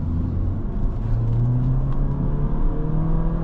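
A 2024 Honda Civic Sport accelerating hard from inside the cabin, engine drone climbing steadily in pitch under full throttle with a deep rumble beneath, close and loud, no talking.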